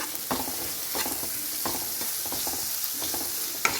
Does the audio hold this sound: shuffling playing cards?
no